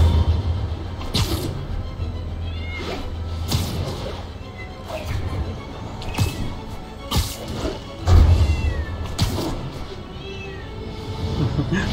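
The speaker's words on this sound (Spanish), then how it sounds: "Pinche gato chillón." A cat meows several times in the Marvel's Spider-Man video game amid game-like whooshes, whacks and crashes, with occasional brief voice sounds mixed in.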